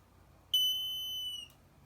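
A smoke alarm's low-battery chirp: a single high-pitched electronic beep, clear and fairly loud, holding steady for about a second before cutting off against a quiet background.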